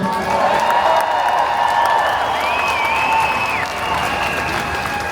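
A large crowd at a London rally applauds and cheers continuously, with clapping filling the space and a few whoops and shouts rising above it.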